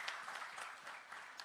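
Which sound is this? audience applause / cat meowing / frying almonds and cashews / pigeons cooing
audience applause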